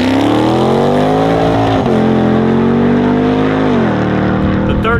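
A Hennessey-built V8 in an SRT car rumbling loud and close, holding a steady throaty drone with brief dips in pitch partway through and near the end.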